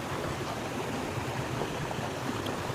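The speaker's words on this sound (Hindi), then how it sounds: "वहाँ का झरना वाला दृश्य।" A riverside waterfall roars as a steady, broadband rush of falling water, continuous and fairly loud without any break, heard close by from the bank of a river along a trekking path.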